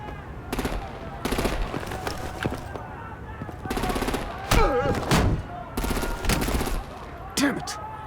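Bursts of rapid automatic gunfire crackle in loud volleys in Batman: The Enemy Within, separated by short gaps, with voices shouting in between.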